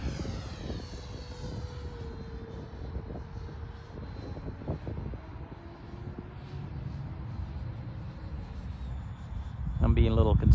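An RC Mirage 2000 model with an 80mm ducted fan flies past, its steady rushing whine carrying on outdoors and swelling louder near the end.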